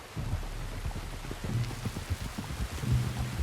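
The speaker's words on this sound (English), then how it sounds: "You were right about the damn rain." Steady rain falls in a rainy outdoor video game scene, with a constant wash of drops and scattered low rumbling thumps throughout.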